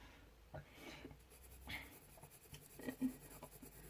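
Soft, intermittent drawing strokes come from someone sketching a realistic eye, with light scratchy marks in short bursts that are quiet and close.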